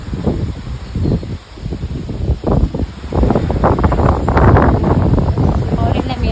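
Gusty wind buffets the microphone with a low, rumbling roar while voices talk underneath.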